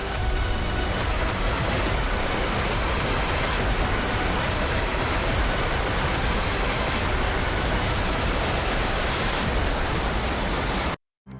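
Rushing flood water in Uttarakhand pours as a loud, dense, unbroken roar of churning water, steady throughout and cut off abruptly at the end.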